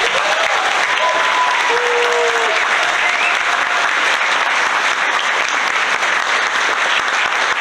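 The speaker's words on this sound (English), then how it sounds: "let's give a huge round of applause for our technical crew this evening" A gala audience gives the technical crew a loud, sustained round of applause that fills the room steadily from start to finish, with a few faint voices and whistles rising above the clapping.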